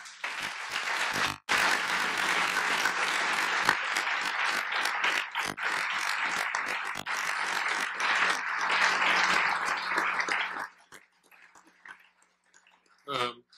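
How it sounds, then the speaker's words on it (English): An audience applauds after a mayoral debate in Holland, with sustained clapping and cheering for about ten seconds before it stops abruptly and a few scattered sounds follow. "I think we should give our participants a well-earned round of applause"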